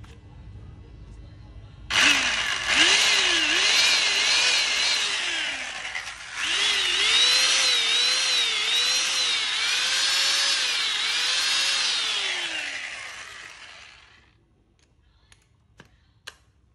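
A German-made 720W, 100V electric power tool without reverse or speed control starts abruptly and runs with a loud, whining motor. Its pitch wavers, dips briefly once, then it winds down and stops, followed by a few faint clicks.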